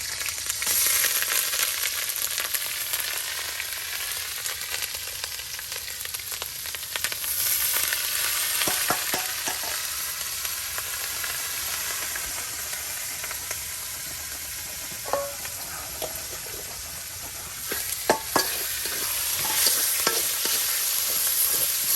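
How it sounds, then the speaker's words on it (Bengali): Onion paste with ginger, garlic and cumin spices fries steadily in a pan while being stirred and turned for chicken curry, a constant sizzle with scraping spoon strokes and occasional clinks. "সবগুলো আবার উলট পালট করে দেওয়া হইতেছে যাতে সব সাথে মশলাগুলো মিক্স হয়"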